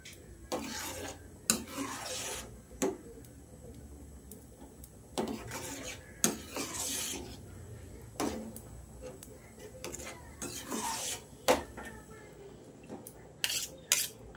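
A spoon stirring pumpkin into boiled milk in a cooking pot gives intermittent scraping, rasping strokes against the metal with small clinks, close and moderately loud, separated by quiet pauses.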